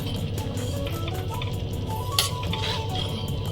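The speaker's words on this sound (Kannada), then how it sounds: "ಇದಕ್ಕೆ ಈಗ ಒಂದು ಸಿಂಪಲ್ ಒಗ್ಗರಣೆ ಕೊಡೋಣ" Tempering for sweet mango gojju sizzles steadily in hot oil, a dense continuous crackle and hiss close by, with a brief clink partway through and no talking.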